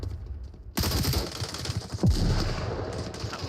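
Continuous gunfire in a competitive OCML team video game match, dense rapid shots and bursts filling the whole stretch, loud and close with a heavier thump midway.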